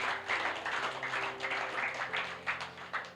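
A church congregation claps together in a sustained, fairly soft patter of many hands that lasts a few seconds, with a faint room hum underneath.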